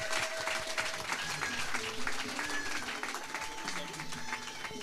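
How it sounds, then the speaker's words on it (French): Applause from a church gospel gathering, steady clapping filling the space with a few faint voices and tones mixed in underneath. "Vos applaudissements"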